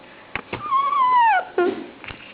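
A young child imitates a dog with a drawn-out whining yelp followed by a shorter bark-like sound, close and clear, with a few taps around it.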